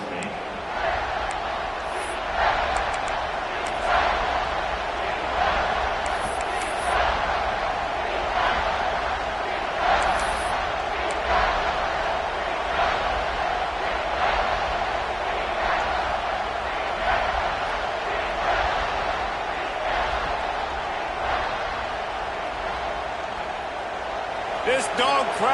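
Stadium crowd noise in the NCAA football video game, a constant loud roar with scattered cheering swells and thumps, running continuously under an announcer's play-by-play commentary.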